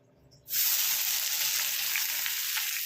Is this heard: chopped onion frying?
yes